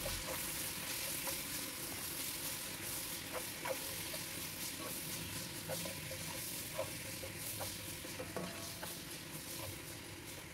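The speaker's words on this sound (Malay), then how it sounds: "Saya nak goreng sebentar isi ayamnya supaya ianya lebih sedap." Chicken pieces frying in a pan for a bitter gourd black pepper stir-fry, a continuous close sizzle with scattered pops and occasional stirring clicks throughout.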